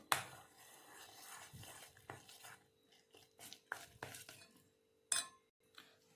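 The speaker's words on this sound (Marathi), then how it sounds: "तर मी इथे याला छानपैकी फेटून घेतले" Potato pakora batter whisked by hand or with a spoon, heard as faint, irregular soft stirring and scraping against a bowl with occasional sharper clinks, close up and quiet.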